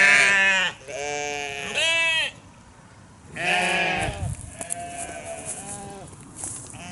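Lambs in an open farm field bleat loudly and close in several long wavering calls, with quieter bleats and outdoor background between them.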